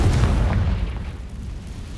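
A heavy, booming blast from the Confringo fire spell in Hogwarts Legacy opens loud and rumbles on, slowly decaying over two seconds.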